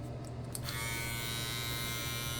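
Braun Series 3 electric razor running close up, a steady even motor buzz with a faint click near the start, continuous and alone.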